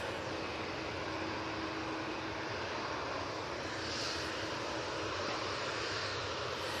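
A Dreamliner airliner departs Manchester Airport for Malaga, heard as a soft, distant, continuous engine roar that swells slightly toward the end, alone without voices.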